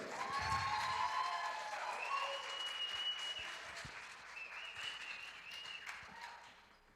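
Audience applause and some cheering welcoming a salsa band at a Salsa & Storytelling event, a full burst of clapping that gradually thins and fades, with a voice speaking over it.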